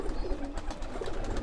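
Kalsara pigeons coo softly amid a flock at a lot sale, low rolling calls repeating over a steady murmur of many birds close by.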